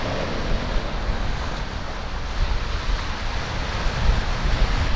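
Ocean surf rushes and washes continuously at the Cape Cod Canal jetty, with gusts of wind buffeting the microphone and swells rising and falling.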